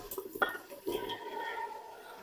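Cut potato and cauliflower pieces drop into a metal pressure cooker with a couple of soft clattering thumps, followed by quiet rustling and a faint metallic scrape.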